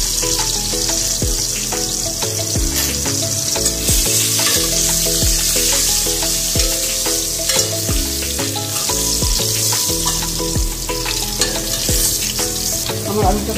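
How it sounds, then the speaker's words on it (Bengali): Potatoes seasoned with salt and turmeric fry in hot oil for a mutton curry, a loud close sizzle that goes on without a break, with repeated scraping stirs, and no one speaking. "আমার আলুটা ভাজা হয়ে গেছে।"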